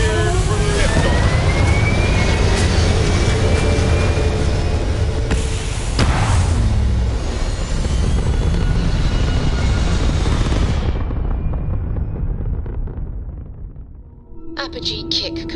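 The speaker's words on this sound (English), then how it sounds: "You're cleared for liftoff." A spaceship lifting off in the video game Starfield, with a loud, steady roaring rumble filling the first ten seconds before thinning out near the end.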